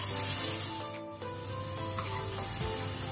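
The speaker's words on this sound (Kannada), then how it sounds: "ಇದನ್ನು ಸ್ವಲ್ಪ ಫ್ರೈ ಮಾಡುವ." Chopped tomato and browned onion fry in a pressure cooker, giving a steady sizzle with a faint scrape or stir near the middle. Low hum tones run underneath throughout.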